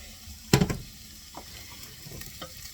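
Vegetables for a cheese, bacon and broccoli soup sautéing in a pot: a short, loud clatter of stirring, then a faint, low sizzle with a few soft taps.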